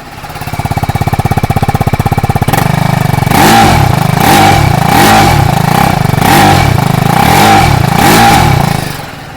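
Exhaust of a TVS Apache RTR 310 motorcycle, loud and close: a steady idling putter, then a series of about six sharp, evenly spaced throttle blips that rise and fall in rhythm, with no talking.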